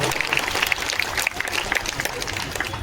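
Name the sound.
audience applause at political rally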